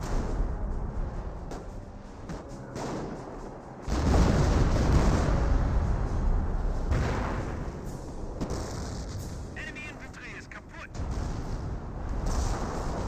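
Wurfrahmen rocket barrage in Company of Heroes 1, a run of heavy booming impacts with a loud rumbling salvo midway and further explosions and crackles following, over a battlefield din.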